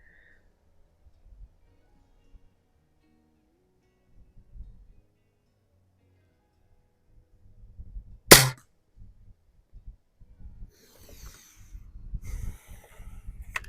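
A single sharp, loud crack comes from a Tom Palmer custom Marlin cowboy rifle with a 499B conversion at the shooting range. Quiet stretches and faint shuffling and handling noises come before and after the shot.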